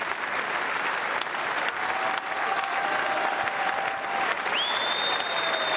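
A crowd applauds steadily at the BGC Masters snooker final in 2012, celebrating champion Neil Robertson. The dense clapping runs loud and continuous throughout, with faint tonal sounds appearing briefly partway through.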